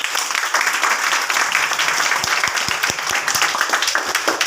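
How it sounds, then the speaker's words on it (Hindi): Students and staff clap to welcome chief guest Vikram at a class 10 school gathering, a dense burst of applause that runs steadily and thins toward the end. "हम उनका स्वागत करते हैं तालियों से"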